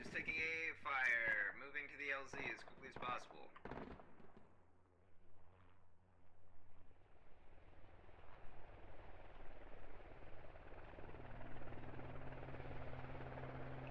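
A military helicopter comes in to land in a first-person shooter game while anti-aircraft fire targets it; after radio-style voices, a steady whirring rotor drone rises and holds to the end, moderately loud.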